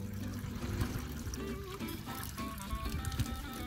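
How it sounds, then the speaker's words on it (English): Water pours steadily into a container being filled for a drip test on a homemade water-harvesting setup fitted with a silicone O-ring and spigot, a continuous close splashing rush with no talking. "Now I'm gonna fill it up about yay high to see if it drips."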